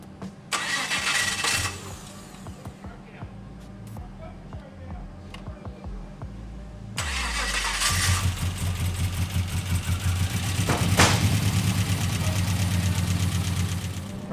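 An LS V8 swapped into an old HK/HT/HG Holden station wagon cranks, stumbles, then fires and settles into a loud rough idle close by, with people talking around it.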